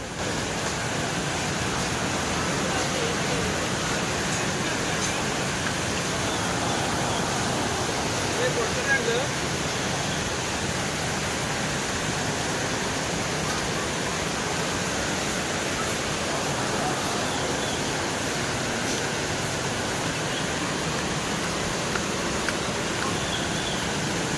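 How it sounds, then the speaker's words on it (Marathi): Monsoon-swollen river flowing below a path in rainy Konkan hill country, a constant broad roar of rushing water at even loudness throughout, with no clear speech. "खालच्या साईडला आहे नदीला पण पाणी भरपूर आहे"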